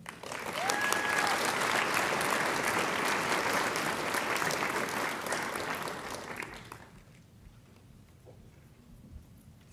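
An audience at a nursing white coat ceremony applauds the awardees, a dense, loud burst of clapping that holds steady for several seconds, then fades out abruptly to near quiet.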